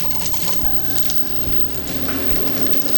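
Zucchini sizzling in hot olive oil in a pan, giving a steady, close crackling fry with dense popping throughout.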